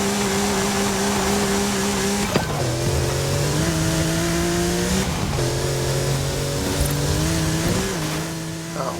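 A Porsche 959 rally car in Forza Horizon 5 drives off-road with a loud, steady engine drone that drops in pitch at each gear shift, with tire noise and a gritty rush running underneath.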